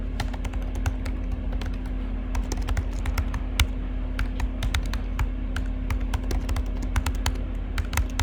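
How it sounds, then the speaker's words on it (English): Rapid keystrokes clatter on a computer keyboard while someone codes a React Router app, sharp clicks coming in quick irregular bursts with short pauses, close and steady over a low constant hum, no voices. "Now I can start typing."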